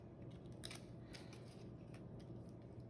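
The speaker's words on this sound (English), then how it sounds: "So I'm going to trim each leaf right here" Kitchen scissors snip artichoke leaves, a handful of quiet crisp cuts in close succession over faint room hum, with no voices.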